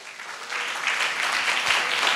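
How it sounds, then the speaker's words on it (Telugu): An audience at a Telugu Christian sermon claps, building to a steady, dense patter of many hands that carries on to the end. "చప్పట్లు కొట్టాలి."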